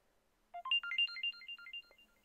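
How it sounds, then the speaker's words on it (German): Samsung Galaxy phone emitting high-frequency audio connection tones during a Smart Switch data transfer, a quick run of some fifteen bright chirping beeps over about one and a half seconds, clean and alone. "Über Hochfrequenzaudio wird eine Verbindung zu deinem neuen Galaxy Smartphone hergestellt"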